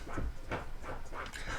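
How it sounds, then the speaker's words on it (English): A dog scratches itself in the background of a quiet indoor fly-tying room, giving a few rhythmic, soft scuffing thumps that repeat at a steady pace at moderate distance. "Of course, my dog decides now is the time to scratch."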